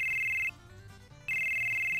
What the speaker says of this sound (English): Who the fuck's calling me on my phone?